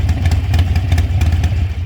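A Harley motorcycle engine idles loudly nearby with a steady, low, lumpy rumble and a faint mechanical clatter, no voices.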